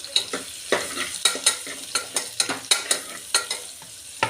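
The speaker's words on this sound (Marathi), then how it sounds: "आता आपण थोडे ह्याच्यात जिरे घालू आपण थोडीशी हळद घालूया" Cumin and turmeric stirred into a hot pan for vegetable pulao, giving a close crackling sizzle with a rapid, regular series of spoon scrapes and taps against the pan.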